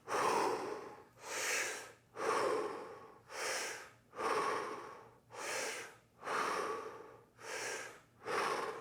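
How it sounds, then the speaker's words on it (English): Fast, powerful diaphragm breathing exercise: eight forceful breaths, each a strong rushing exhale with short gaps between, evenly paced at roughly one per second, close and alone. "So this is a powerful breath."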